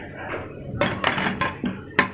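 Peeled raw mangoes dropped into a metal cooking pot for a sherbet, several sharp clanks and knocks in an uneven burst, close and fairly loud after a quiet start.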